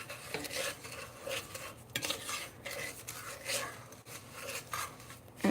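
Butterscotch-cinnamon pie filling stirred in a pot, soft repeated scraping and spoon-against-metal clinks in an uneven rhythm, fairly quiet and close.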